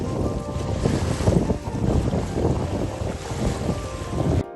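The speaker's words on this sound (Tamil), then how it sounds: "கண்ணுக்கு எட்டிய தூரம் தண்ணீர் நிரம்பி அலை அலையாக கரையை வந்து தண்ணீர் தொட்ட வண்ணம் உள்ளது" Waves lapping the shore of the brim-full Maranadu tank, a large village reservoir, with loud steady wind buffeting the microphone over a continuous rolling wash of water.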